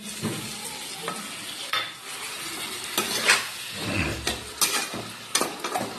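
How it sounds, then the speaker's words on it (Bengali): Spices and besan fritters stirred and frying in a masala for a fish-roe-style curry, with a steady close sizzle and repeated scraping strokes of a spoon against the pan, no talking. "ভালো করে কষিয়ে নিতে হবে, নেড়ে চেড়ে।"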